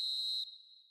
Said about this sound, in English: now it's a case of waiting for the whistle